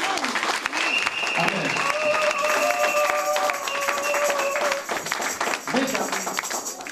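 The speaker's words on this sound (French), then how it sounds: "Est-ce que tu peux acclamer très fort pour cela?" Congregation applauding and cheering in a church service in Metz, a steady wash of clapping with whoops and sung or shouted tones over it, loud and sustained throughout, with a voice briefly speaking.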